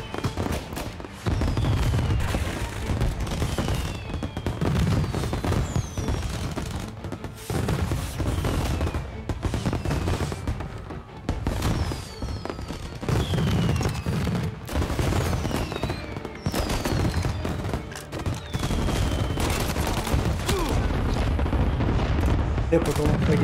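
In the Mafia Definitive Edition shootout, repeated gunshots crack out in irregular clusters across the whole stretch at moderate loudness, each volley followed by a short lull.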